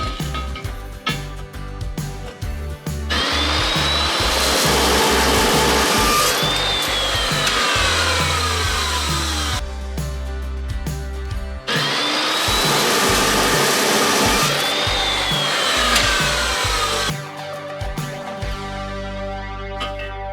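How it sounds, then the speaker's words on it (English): An angle grinder works a steel cross member in long, loud, continuous passes, pausing between bursts as the disc spins down and the shop hum continues. "I'll keep grinding it until it's just right"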